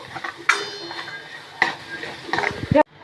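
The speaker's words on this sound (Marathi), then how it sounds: "आता हे तिखट टाकल्यानंतर परतून घ्यायचे चांगलं" Chili powder masala for a sandge curry sautéing in a pan, with a soft sizzle and a few distinct spatula scrapes and clanks against the metal, ending in a sharper knock.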